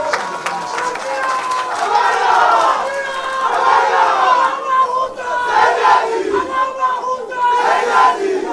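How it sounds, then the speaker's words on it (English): At a formal gathering, a large crowd greets Honorable Aminu Sani Jaji's arrival with loud, continuous cheering and shouting voices that surge and dip, while only faint clapping comes through underneath. "Can we give him a round of applause"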